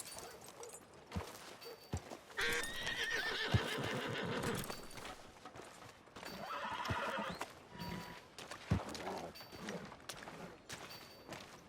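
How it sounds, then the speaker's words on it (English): In the video game Red Dead Redemption II, a horse whinnies loudly twice, long shrill neighs, while hooves clop and shuffle in the background amid occasional knocks and thumps. "Tether the horse and I'll meet you across the street."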